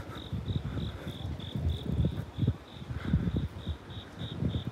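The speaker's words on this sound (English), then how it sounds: "You hear the crickets?" Crickets chirp at night on a quiet back street in Seoul, a steady pulsing trill repeating evenly throughout over a low rumble of distant background noise.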